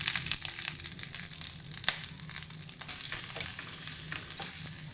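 Grated coconut frying in oil for a Kerala-style ash gourd pachadi, a soft steady sizzle with crackles and occasional stirring scrapes, fairly quiet and close, with no talking.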